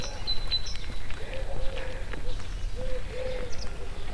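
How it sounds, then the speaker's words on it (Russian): Small birds chirp and twitter outdoors on a quiet spring morning over dewy grass in Donbass, with scattered high calls and a few lower cooing notes, steady and fairly close. "тишина, птички расчирикались"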